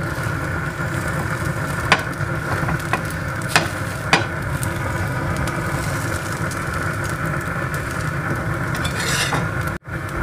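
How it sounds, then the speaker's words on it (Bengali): Frozen paratha fries in a pan with a steady, close sizzle that runs throughout, punctuated by a few light utensil clicks against the pan. "আম্মু পরোটা ভাজি করছে"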